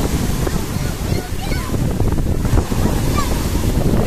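Sea waves wash steadily onto the beach at Nikolaevka, Crimea, with loud, continuous surf and wind noise buffeting the microphone. A few faint bird calls come through the roar.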